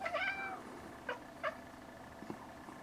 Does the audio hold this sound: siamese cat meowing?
yes